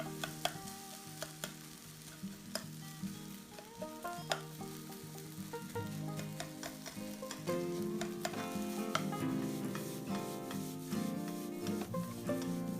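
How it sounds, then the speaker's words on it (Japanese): Crushed, water-softened cup noodles stir-fried as fried rice to drive off moisture, a dense close sizzle under repeated scraping and rubbing strokes of a spatula against the pan, steady and uninterrupted, with no voices. "水分を飛ばしながら炒めてます。"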